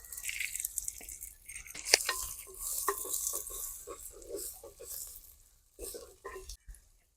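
Chopped onion with ginger and garlic sizzles softly in oil in a pan for a koli clam masala, with light stirring scrapes and clinks against the pan, fairly faint and close.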